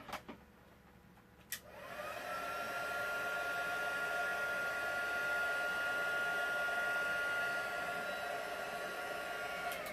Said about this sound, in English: I'll quickly hit that with a heat gun.